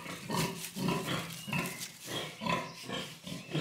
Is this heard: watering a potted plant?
no